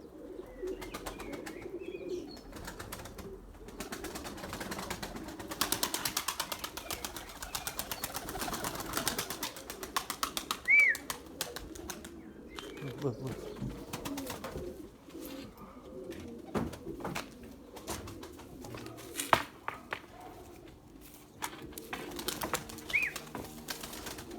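Pigeons in a loft, including a lemon-coloured and a white bird, coo softly and steadily over a low background rustle, with occasional faint scuffs and wing movements throughout.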